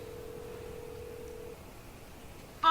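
A telephone call in a detective video game gives a single steady tone lasting about a second and a half, quiet and isolated, then a short burst of sound at the very end.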